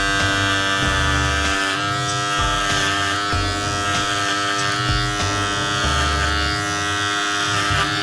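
Rotary-motor hair clippers run with a steady, close electric buzz as they cut hair with a number 2 guard at the back of the head in a barber shop, the drone continuing unbroken throughout.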